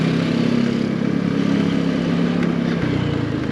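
An MBP SC 125 RE 125cc scooter ridden over a bumpy road, its steady mid-pitched engine drone close and continuous, with faint rattles and jolts from the rough surface.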